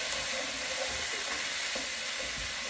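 Garlic fries in a curry pan in a steady sizzle, with a spoon scraping and stirring through it in a few soft strokes. No one speaks.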